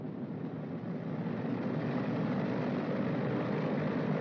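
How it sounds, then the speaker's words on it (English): A B-29 bomber engine runs up to 2000 RPM, giving a steady, dense propeller drone at moderate level that holds constant throughout with no speech. "Advance number 1 throttle to 2000 RPM."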